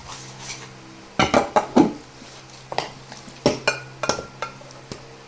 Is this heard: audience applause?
no